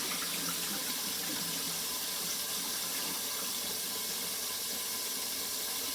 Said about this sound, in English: So I'm gonna drain the water and make sure they don't have water